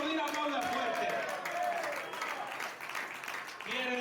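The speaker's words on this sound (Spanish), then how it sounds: "si va a aplaudir, aplauda fuerte" A church congregation applauds and cheers, a dense wash of clapping that swells loud, dips briefly and rises again, with voices mixed in.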